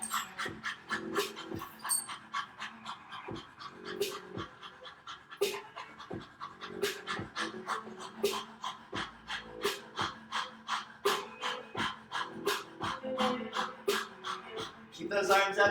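Quick, rhythmic dog-like panting breaths in a yoga class, each puff sharp and close, repeating steadily for many seconds, with an instructor speaking between and over the breathing; a human voice imitates a dog's pant.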